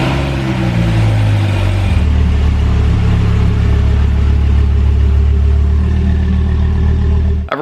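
A 2003-2010 Dodge Viper engine cold-starts close by with a loud catch and rising roar that settles after a couple of seconds into a heavy, steady, throbbing high idle.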